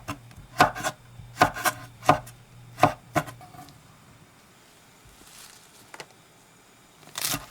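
A knife slices horn chili into strips on a cutting board, giving about eight crisp, fairly loud chops in an uneven rhythm. A few softer taps follow after a pause.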